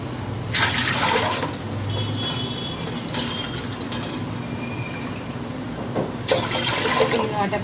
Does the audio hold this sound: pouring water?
yes